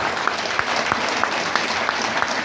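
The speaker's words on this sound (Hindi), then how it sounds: "दीदी के लिए ताली बजा दो।" Crowd applause in a hall at an RCM business seminar in India, a steady thick patter of many hands with a few sharp louder claps standing out, fairly close and sustained.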